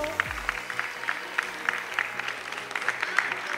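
An audience at a chess tournament prize ceremony in Conil claps briefly, scattered steady applause from a modest crowd, heard at moderate distance.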